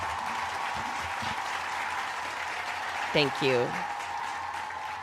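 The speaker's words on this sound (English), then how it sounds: "Everybody clap now." An audience claps in steady applause behind the whole stretch, with a brief spoken thanks heard over it.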